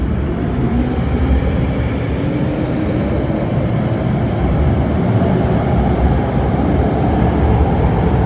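A metro train pulls out of Ho Man Tin station, a steady loud rumble of wheels and motors rolling along the track throughout, with no voices over it.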